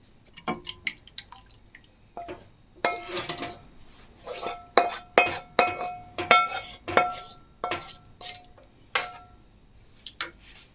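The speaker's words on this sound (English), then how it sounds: "Now I'm going to transfer to my dish" Food being scraped and transferred from a pan into a dish for a homemade fish and fennel pie, with a run of sharp metallic clinks and taps of utensil on cookware, close and fairly loud, no talking.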